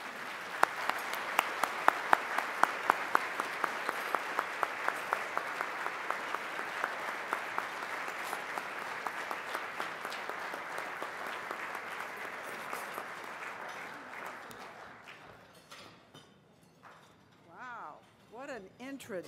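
An audience at a Distinguished Speakers Series event greets the guest speaker with steady, sustained applause that fades out over about fifteen seconds, after which a voice begins speaking.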